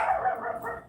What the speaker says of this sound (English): You know why this dog barking